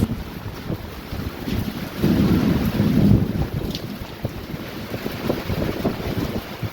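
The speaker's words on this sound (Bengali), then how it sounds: "দেখুন বাইরে বৃষ্টি, বাবা সেই ঝড় সেই বৃষ্টি" A storm outside with wind and rain makes a steady, rushing roar that swells into a louder gust partway through, then settles back to a constant blustery wash with no voices.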